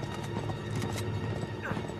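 Horse galloping in the video game Uncharted 3, a quick rhythmic clip-clop of hooves with a whinny in a busy game mix, over about two seconds.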